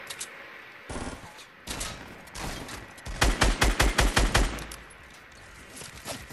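Gunshots in the video game Fortnite: a few scattered shots early, then a fast string of about eight loud, close, evenly spaced shots, followed by quieter ambience.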